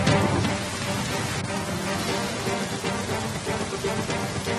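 Heavy monsoon rain in North India pours down as a dense, steady hiss of drops striking surfaces, loud and continuous throughout with no voices.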